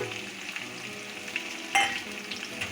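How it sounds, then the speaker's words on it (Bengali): Turmeric, cumin and green chilli paste fry in a pan while being stirred, giving a soft steady sizzle with light scraping and one brief louder clatter partway through. "সব কিছুকে একসাথে ভালো করে কষিয়ে নেব"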